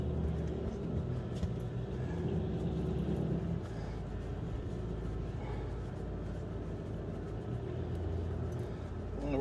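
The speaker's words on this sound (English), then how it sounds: "A real loud car. No muffler." A loud car with no muffler passes outside, a continuous low, rough engine rumble that holds steady for several seconds and then eases slightly.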